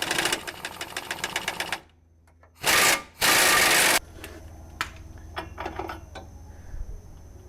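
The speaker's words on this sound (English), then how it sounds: "So I'm gonna take that bolt off and we're gonna see what's under that." Bolt being worked off the suspension of a Duramax diesel truck, with a steady rattling mechanical burst, two short loud bursts in the middle, then quieter clinks and scrapes close by.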